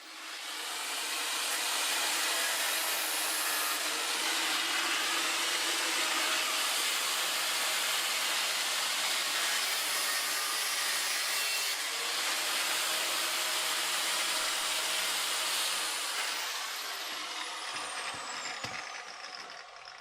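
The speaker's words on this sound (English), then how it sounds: "I will need my angle grinder" Angle grinder cutting through a dirty bicycle chain caught behind the frame of a Union bicycle, a loud continuous high-pitched whine and hiss lasting about sixteen seconds before spinning down.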